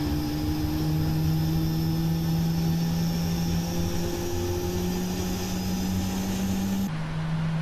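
Airliner jet engines hum and whine steadily during pushback, heard from inside the aircraft as a constant tonal drone with a sustained steady pitch that drops slightly near the end, no voices present.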